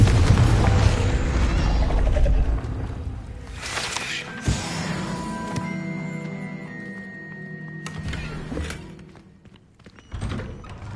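Confringo spell blast in Hogwarts Legacy on PS5: loud rumbling booms and thuds at the start, followed by sharp magical impacts and ringing tonal tails, then another burst near the end.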